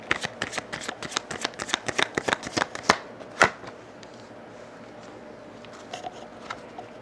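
Tarot cards are shuffled by hand during a reading. A quick run of close, crisp flicks and slaps lasts about three seconds, then thins to a few scattered soft taps.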